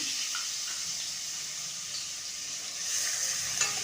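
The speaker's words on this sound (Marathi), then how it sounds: "बटर टाकून झालं की आपण हा कांदा चिरून घेतलेला आहे तो यामध्ये टाकून घेणार आहोत" Chopped onion sizzles in melted butter for pav bhaji, a constant close hiss with faint stirring clinks.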